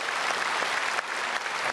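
Congregation applauding during a Sunday worship service at a large church, a dense, steady wash of many hands clapping at full volume throughout, with no talking.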